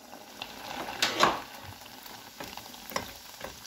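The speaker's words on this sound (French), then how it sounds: "on va passer à la cuisson des fricassés. Donc dans une casserole d'huile bien chaude ou à la friteuse," Fricassé dough sizzles and crackles in a saucepan of very hot oil, a steady close frying hiss with a few sharper pops, heard alone without talk.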